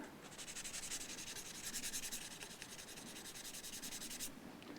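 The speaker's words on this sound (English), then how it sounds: "I'm going to use a little bit of 1000 grit or some such to take it down." Fine 1000 grit sandpaper rubs on the finish of a Fender American Professional Stratocaster, a quick, rhythmic back-and-forth scratching of many close, faint strokes that stops shortly before the end.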